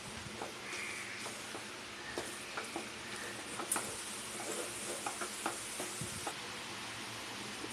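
Coarse rice flour dough is stirred and sautéed in a pan over low heat, with soft continuous scraping and faint sizzling that comes and goes in gentle strokes.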